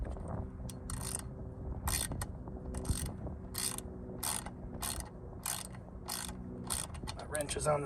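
A worn ratchet wrench clicks steadily and close by while working on a Predator 3500-watt generator, its rapid metallic ticks coming in short repeated runs over a low mechanical background.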